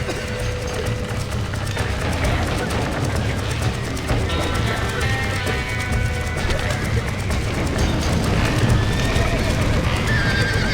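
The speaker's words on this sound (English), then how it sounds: "Now get the horses out!" Horses in the video game Red Dead Redemption whinny repeatedly over a steady clatter of hooves, with shouting voices and busy background noise throughout.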